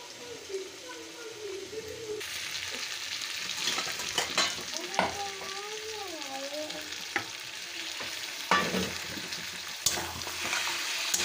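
Mutton sizzles as it is stir-fried in rendered mutton fat, a soft crackle with repeated scraping stirs and clinks of the utensil, fairly faint and close, with someone talking over part of it.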